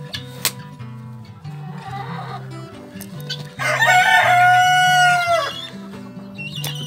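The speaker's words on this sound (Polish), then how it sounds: "Też jest kogut." A rooster crows loudly once in the middle, its long cry rising and falling over a steady low mechanical hum and scattered clucks.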